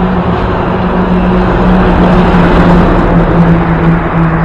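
Heavy lorry approaching along a road, a loud continuous low engine drone and tyre roar with a steady tone throughout, close by and building slightly in the middle.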